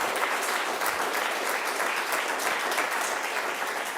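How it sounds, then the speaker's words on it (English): An audience at ISPI in Milan applauds at the close of a climate change forum, a full, even clatter of clapping that holds steady throughout with no voices over it. "this is the applause from here"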